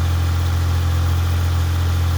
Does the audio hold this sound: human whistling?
no